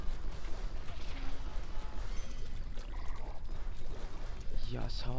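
Shower attack water spray in the game Splatoon 2, a rushing, pouring gush of water with splashy bursts, fairly loud and continuous, mixed with other game sounds and a voice talking.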